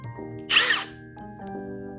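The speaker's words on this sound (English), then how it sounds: "For drilling the wall and driving the screws, I used this excellent and drop-dead gorgeous Milwaukee toolkit" A Milwaukee cordless drill bores into a wall during a home cabinet build, one loud high-pitched whirring burst of about half a second set between quieter mechanical humming.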